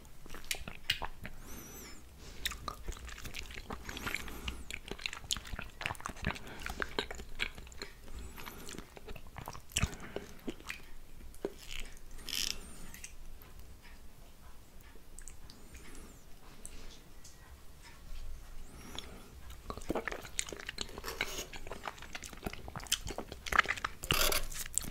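Grass jelly mixed with condensed milk is eaten close to the mic, giving continuous soft wet chewing and squishy bites with small crunchy clicks, fairly faint, steady and without talk.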